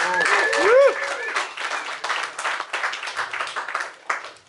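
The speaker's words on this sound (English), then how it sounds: "Give him a round of applause." Applause from a meetup audience fills the space, dense clapping that tapers off, with a brief tonal sweep near the start.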